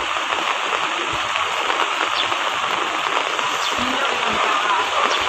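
Heavy rain from Typhoon Carina pours down in a steady, dense hiss over flooded ground, loud and unbroken throughout, with occasional faint low thuds underneath.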